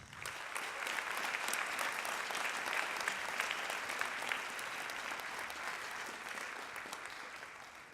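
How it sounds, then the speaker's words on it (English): A school audience claps steadily for the band boosters at Lakeside Junior High's spring band concert. The dense, continuous applause fills the whole stretch and tapers slightly toward the end. "give our boosters a round of applause"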